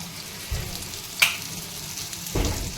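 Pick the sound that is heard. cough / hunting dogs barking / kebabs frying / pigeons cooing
kebabs frying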